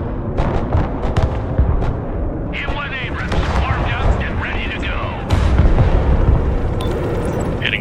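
Rocket barrages from MLRS artillery strike in the Broken Arrow war game, a dense, loud run of booming blasts and crackling impacts that keeps rumbling through the clip, with voice chatter mixed underneath.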